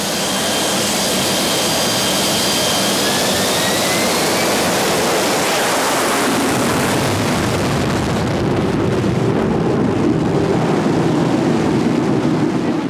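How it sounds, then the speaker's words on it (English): Fighter jet launching from a warship deck, a loud, continuous roaring jet blast with a whining tone that fades as the rushing exhaust noise swells, close and overwhelming. "Jet blast, you really have to lean against it."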